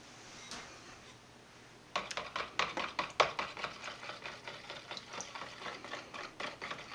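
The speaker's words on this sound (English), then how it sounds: "whisking that together" Eggs are whisked quickly by hand into warm melted shortening in a bowl for donut dough: after a quiet start, a rapid, steady run of light clicking and tapping strokes continues close up.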